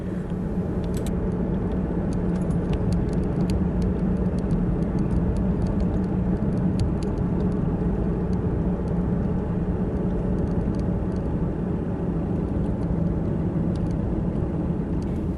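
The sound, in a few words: car driving along Route 8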